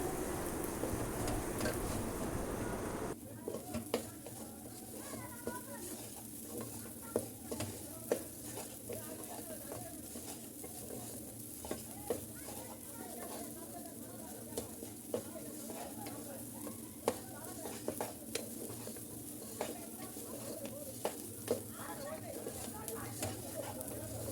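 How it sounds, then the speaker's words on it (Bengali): Pulao rice sizzles steadily as it fries in a hot pan while a utensil scrapes and stirs it in repeated sharp clicks, with occasional talk over it. "পোলাও চালের সাথে দিয়ে আমি বেজে নেব"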